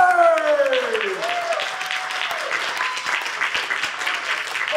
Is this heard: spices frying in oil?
no